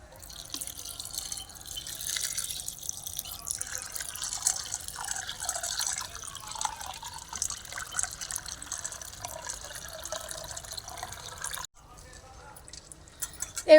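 Water drips and trickles into a bowl of chana dal set to soak in a home kitchen, light intermittent splashes heard close under a speaking voice.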